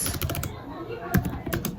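Typing on a computer keyboard while entering a prompt into ChatGPT, quick bursts of clattering keystrokes at close range, loud and irregular, no talking.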